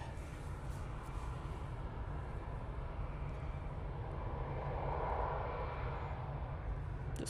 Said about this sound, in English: we do have another arrival now, which is Ryanair from Alicante